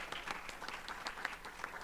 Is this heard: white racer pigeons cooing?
no